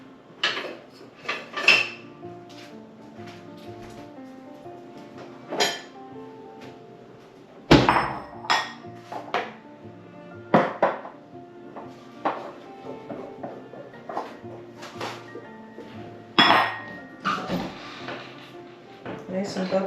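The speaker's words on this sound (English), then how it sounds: "So I'm going to go ahead and discard half my starter after I give it a stir." Sourdough starter stirred in a jar and then half scooped out, giving a run of sharp clinks, scrapes and knocks of spoon against glass, with a heavy thunk near the middle, close and fairly loud.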